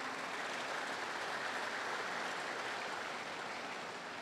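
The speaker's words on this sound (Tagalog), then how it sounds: "Pakilakas niyo yung palakpak ninyo" Sustained applause from a church congregation during a live service, steady and dense throughout with no voices standing out.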